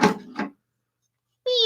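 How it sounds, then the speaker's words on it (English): A cat meows outdoors: two short, close calls, then a pause and a longer drawn-out meow. "We got a cat."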